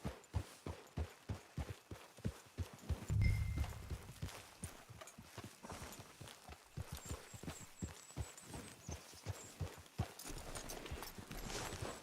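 Horse hooves clip-clop in a steady, even walking rhythm in the video game Red Dead Redemption 2, close and clear, with a brief low swell partway through and no speech.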